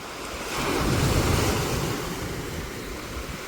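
Sea waves wash onto a beach with a continuous broad roar. A surge swells in the first half and then eases into a steady rush, with wind buffeting the microphone and no voices.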